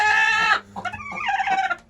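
Egg-laying hens in a hobby coop: one drawn-out, nasal call up front, then a run of short, uneven clucks close by.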